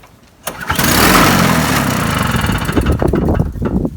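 An old snowblower engine, carburetor freshly cleaned and treated with Seafoam and missing its primer bulb, catches after a quiet moment and fires into a loud, steady, close running roar that sputters slightly near the end.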